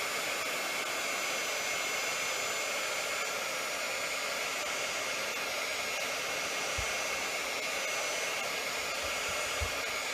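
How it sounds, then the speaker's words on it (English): A steady, loud blowing hiss from an embossing heat tool runs unbroken throughout, with a couple of faint low thumps near the end. "So now I'm going to use my heat tool."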